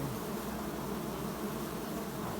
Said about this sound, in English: There's a lot of bees, man.